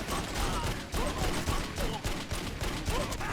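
Gunfire in the driving shooter Wheelman, a rapid string of loud, closely spaced shots pulsing throughout the short clip over a noisy game mix.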